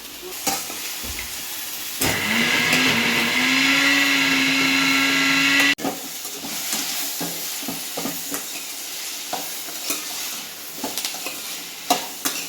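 Ridge gourd fries with gram flour powder on a low flame, a steady sizzle broken by repeated stirring scrapes and clinks, with a loud whirring hum covering the first few seconds.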